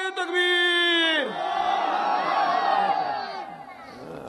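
A single voice first calls out, then a large crowd at a religious gathering answers with a loud, sustained takbir shout that rises and slowly fades.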